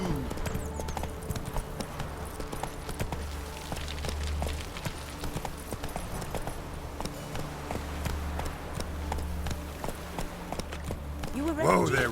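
Hoofbeats of Roach, a horse in The Witcher 3, clip-clopping at a steady run throughout, close and fairly loud, with game music and occasional spoken voices over them.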